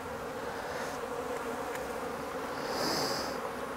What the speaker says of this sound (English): quite a lot of bees.